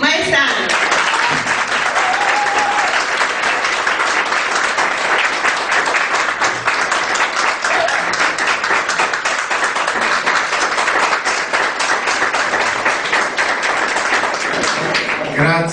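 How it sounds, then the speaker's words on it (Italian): An audience claps loudly and continuously in a hall to welcome a mayoral candidate, with the dense clapping sustained throughout and voices faintly underneath. "vogliamo accogliere con un grande applauso il nostro candidato a sindaco, Mario Maesano"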